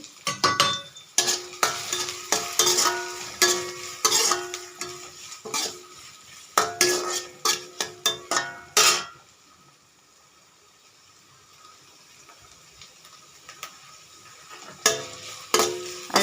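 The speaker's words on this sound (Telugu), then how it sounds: "ఉల్లిపాయ ముక్కలు ఉల్లిపాయ పచ్చిమిరపకాయ ముక్కలు వేసి వేయించుకోవాలి" Onion and green chilli pieces fry in a pan while pasta is being made. Bursts of stirring and scraping come with a light sizzle, then a quieter stretch partway through, and the stirring returns near the end with no talk.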